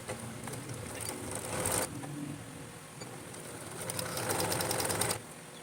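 A sewing machine stitches the sleeve of a namaz chadar in two quick, rapid-fire bursts of needle chatter, the second longer, separated by a brief pause with faint mechanical whir.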